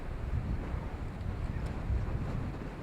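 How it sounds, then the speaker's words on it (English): Wind blows across the field at a high school 2A all-star baseball game, a steady low rumble and buffeting on the microphone with no distinct other sounds. "Wind blowing out"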